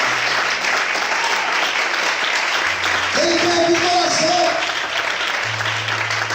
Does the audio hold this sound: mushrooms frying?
no